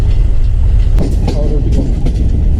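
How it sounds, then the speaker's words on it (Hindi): A Green Line train rumbles past, a loud, close, continuous low roar with metallic clatter from the wheels and rails. "जहाँ पर दूसरी ट्रेन पीछे जा रही है वहाँ पे ट्रेन जा रही है"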